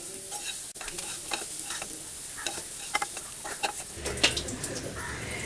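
Ginger and green chillies sizzle steadily in hot oil as they fry toward dark brown, with scattered stirring clicks and scrapes and a brief louder clatter near the end.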